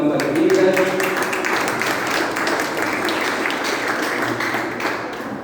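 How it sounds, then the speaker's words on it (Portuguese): A church or mission-school audience applauds, a steady wash of clapping that holds and slowly fades, with some voices underneath. "podem aplaudir a Deus pelas nossas vidas"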